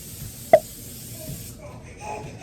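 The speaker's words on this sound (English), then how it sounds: "I'm gonna spray it in here." A brief click, then a short burst of cooking spray hisses into a muffin pan for about a second, then fades into quiet room sound.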